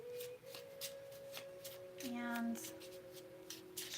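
Tarot cards being shuffled and pulled during a psychic reading, soft riffling and sliding under a speaking voice and a steady tonal hum.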